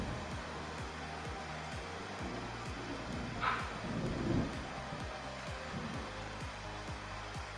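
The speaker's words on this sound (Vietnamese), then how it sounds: "Sấm chớp một cái đùng." A single deep thunder rumble from the weather effect in VLTK Mobile, a mobile martial-arts game, rolls up briefly in the middle over steady, rhythmically pulsing game music.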